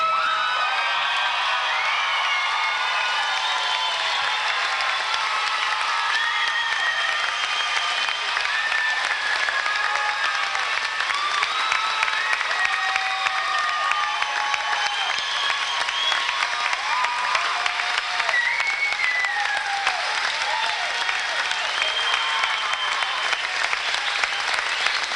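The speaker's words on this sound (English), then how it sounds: "let us stand and applaud the graduates" A large crowd at a high school graduation ceremony applauding steadily and loudly for a long stretch, with scattered whoops and cheers rising over the clapping.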